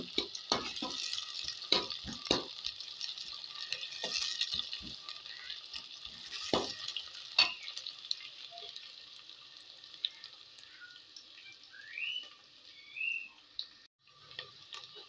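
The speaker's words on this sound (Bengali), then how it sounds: "পেঁয়াজটা কিছুক্ষণ নাড়াচাড়া করে একটু লাল করে নেব।" Onions being stirred and fried in a pan, a soft continuous sizzle with irregular scrapes and knocks of the spatula against the metal, quiet and close, easing off toward the end.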